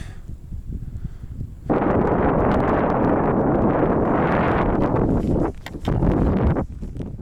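Strong mountain wind on a Mera Peak climb roars against the microphone in loud, sustained gusts, briefly dropping away before surging back with heavy buffeting rumble.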